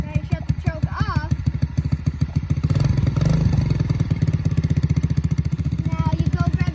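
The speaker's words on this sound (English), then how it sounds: "pull out the kicker, get on your bike, and kick it. Now you shut the choke off." A dirt bike engine fires up after a kick start and settles into a loud, close, rapid chugging idle, with a brief revving swell partway through.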